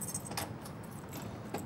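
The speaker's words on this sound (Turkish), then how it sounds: "bu anahtarı açmıyor haberin olsun" Metal keys jangle in short bursts near a door lock as someone tries to unlock it, with faint background noise and no speech.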